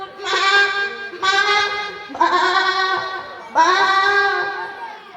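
A voice imitates goats bleating: four long, wavering, nasal bleats in a steady sequence, close and fairly loud, with no other sound between them.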